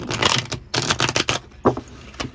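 A deck of reading cards being shuffled in loud, fast, clattering bursts with brief pauses between them, close to the listener.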